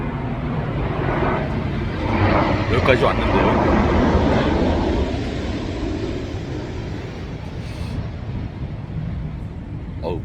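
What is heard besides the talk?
airplane noise overhead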